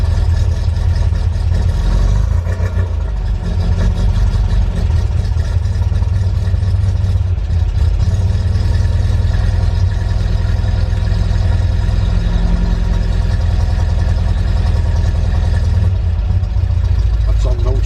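A 1977 MGB GT with a cherry bomb exhaust idles just after starting, giving a loud, steady, low rumble that holds evenly throughout.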